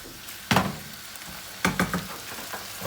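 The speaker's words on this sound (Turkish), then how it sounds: "Hemen şöyle tavuğumuzu bir sallayalım." Chicken pieces sizzle in a home kitchen pan, with two sharp bursts of hissing and clatter as the pan is tossed, the second followed by a couple of smaller rattles over a steady low fry.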